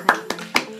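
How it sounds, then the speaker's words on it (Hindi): Three sharp claps ring out in quick succession for a contestant in a Punjabi lassi drinking challenge, close and fairly loud. "तो फिर उसके लिए भी ताली"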